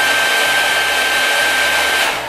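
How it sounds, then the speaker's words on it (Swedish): A hair dryer blows steadily and loudly to heat an eyelash curler, a continuous close whoosh that holds for over two seconds and eases slightly at the end. "Och det är att värma ögonfransböjaren med hårtorken."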